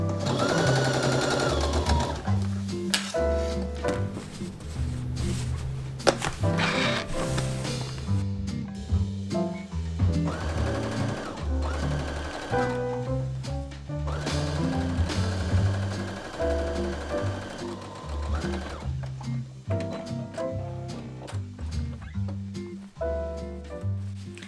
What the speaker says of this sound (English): So next we're going to sew the crotch seam together.